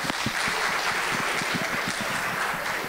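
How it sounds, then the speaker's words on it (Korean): An audience at a Korean venture-capital conference claps to welcome a presenter, a continuous patter of many hands at moderate volume, spread evenly across the room. "박수 부탁드립니다"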